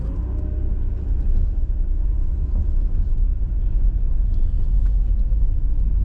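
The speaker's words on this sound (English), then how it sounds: "I'm gonna let this car through." A car goes by on a residential street in Cleveland's west side, a steady low rumble of engine and tyre noise sustained throughout, fairly close and even in loudness, with no talk.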